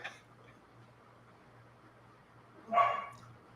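A single dog bark rings out fairly close near the end, after a quiet stretch with a low steady hum in the background.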